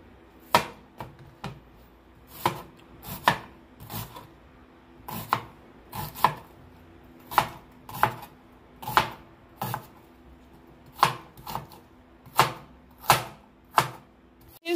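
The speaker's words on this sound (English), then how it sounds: "I'm using half of an onion, and I'm cut, as you can see, I'm cutting them in small pieces." A knife chops half an onion into small pieces on a cutting board. The sharp, close taps come in steady bursts of two or three, repeating over and over with brief pauses between.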